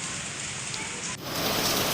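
Heavy rain falls in a stormy wind in Maliya Hatina taluka, a dense, loud, steady hiss that swells and grows brighter partway through.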